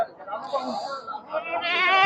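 Black Bengal goats, a native breed, bleat at a goat market, with a drawn-out, quavering cry rising near the end. Steady voices talk over and around it.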